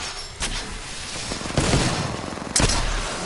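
Rapid bursts of Peacekeeper gunfire in a first-person shooter video game, loud sharp reports at about 0.4, 1.6 and 2.6 seconds, each followed by a ringing tail over a noisy background.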